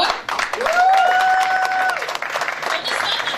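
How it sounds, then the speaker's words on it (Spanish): Strong audience applause for a contestant at a live show, close and lively clapping with a whistle and some cheering voices mixed in. "Un fuerte aplauso, por favor."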